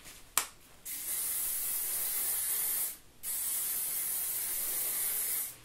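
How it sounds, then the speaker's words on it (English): Two long steady hissing bursts of Matrix hairspray from an aerosol can, close to the mic, separated by a brief pause, with a click before the first. "I'm going to just spray some hairspray"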